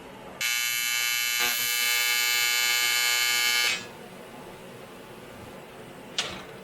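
An AC TIG welder runs on aluminum with a contaminated, blackened tungsten electrode, giving a loud, steady, harsh electric buzz for about three seconds before cutting off. A faint hum follows, then a brief sharp click.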